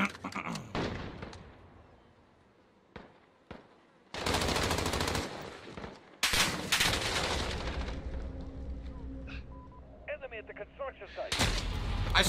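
Video game gunfire comes in several loud, rapid automatic bursts separated by quieter gaps, with a few isolated single shots and some electronic beeping between volleys, and a voice speaking in places.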